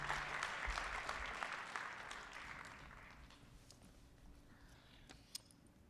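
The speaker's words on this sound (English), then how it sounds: "So please give her a great round of applause as she comes." Audience applause at the opening of a Black History in Motion program, loud clapping at first that gradually thins and fades over several seconds.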